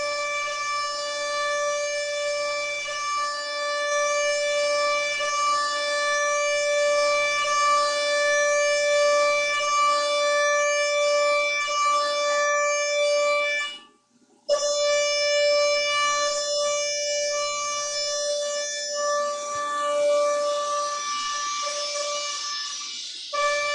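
DATRON CNC machine milling with a 6mm single flute tool at 35,000 RPM, a loud, sustained tonal whine that drops out briefly midway and then resumes, with no talking.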